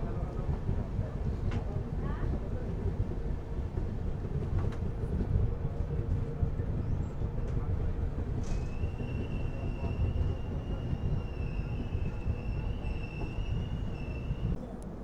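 A train at Londa Junction, a two-platform South Western Railway station, gives a steady rolling rumble of wheels and carriages. A thin, high wheel squeal rises over it near the end.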